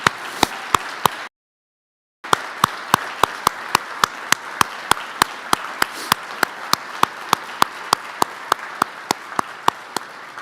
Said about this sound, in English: I would like to ask that we all honor him with a round of applause for his years of dedicated